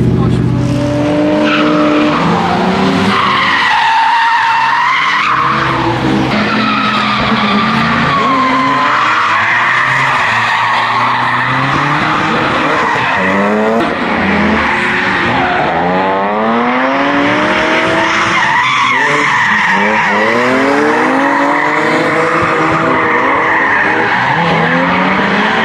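Loud, continuous tire squeal as a car drifts at a drift event, long wavering screeches rising and falling over a roaring engine, with some talking mixed in.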